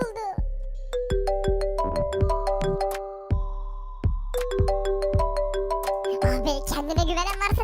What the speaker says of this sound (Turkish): telefonum çalıyor